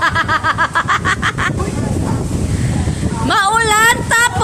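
Strong typhoon gusts and rain buffet the microphone outdoors in Manila, a roaring, rushing wash with sputtering wind bursts, while people talk and laugh over it.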